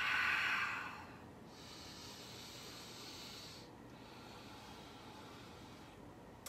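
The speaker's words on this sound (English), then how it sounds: "Take a couple more breaths." A person takes slow, deep breaths during a yoga session, close and soft. A strong airy exhale opens, then quieter hissing inhales and exhales follow in a steady rhythm with no talking.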